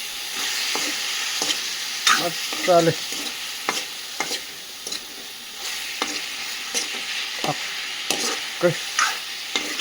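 Meat frying in a pan with tomato, turmeric, salt and chilli, stirred vigorously, a loud continuous sizzle broken by repeated scraping and clattering strokes of the spoon, with a few brief spoken words.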